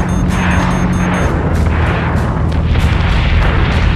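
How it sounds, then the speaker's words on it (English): Missiles exploding in the Battlestar Galactica Deadlock space combat game: loud, continuous rolling booms and blasts that overlap densely throughout, with no pauses. "Missiles incoming!"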